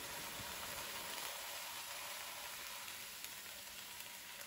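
Chopped onions hit a hot pan and sizzle, a soft steady hiss that thins slightly after the first second and carries on quietly, ending with a small clatter.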